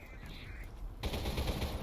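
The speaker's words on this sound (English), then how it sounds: "That sounds like a Gatling gunner." A Gatling gunner enemy in Selaco opens up with a dense, continuous rattle of rapid gunfire that swells suddenly and holds steady, fairly loud in a parking garage level.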